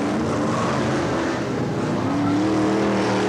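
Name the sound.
Brisca F1 stock cars racing on a track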